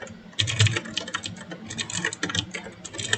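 Quick, steady typing on a computer keyboard into a web page text box, a busy close-up clatter of keys with brief pauses and no voices.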